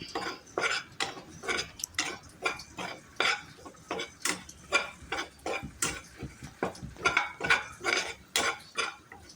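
Sambar ingredients roasting in a pan as a utensil scrapes and stirs, a rapid run of close metallic clinks and scrapes in an even, repeating rhythm.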